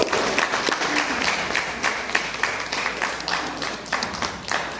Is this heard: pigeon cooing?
no